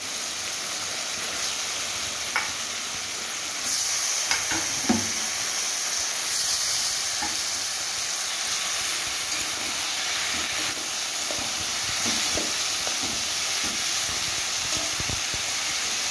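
Boiled taro stolons hitting a hot pan, giving a steady broad hiss and sizzle that swells slightly partway through, with occasional faint clinks, close and continuous.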